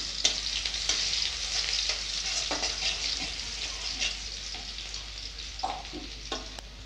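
Crushed garlic sizzles steadily in hot mustard oil in a wok, a continuous bright frying hiss with occasional stirring clinks and pops, moderately close and without any voices.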